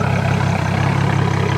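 Turbocharged Z car engine idling after a bad V-band exhaust clamp was replaced, a steady low, even rumble held close and loud with no gaps.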